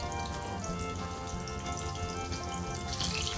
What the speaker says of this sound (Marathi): अशा प्रकारे आपले सगळे लॉलीपॉप आपण तळून घेऊया.